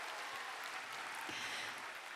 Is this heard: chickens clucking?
no